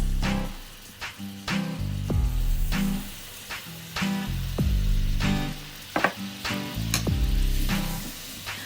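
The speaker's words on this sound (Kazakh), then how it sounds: "Осылай жақсылап араластырамыз, ол қоюланады" A spoon scrapes and stirs around a pan in irregular strokes over a soft sizzle, with faint music playing underneath.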